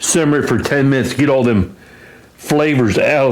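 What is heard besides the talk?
No everyday noise stands out behind the speech.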